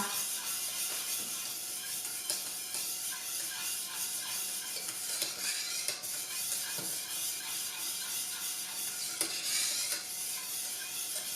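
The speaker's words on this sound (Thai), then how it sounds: "แล้วก็คนไปเรื่อยๆค่ะ จนกว่าแป้งข้าวโพดจะสุกเข้ากันกับกะทินะคะ" Coconut milk thickened with cornstarch is stirred steadily in a pot over medium heat, giving a continuous soft scraping and gentle bubbling hiss that stays even and close throughout, with no talk.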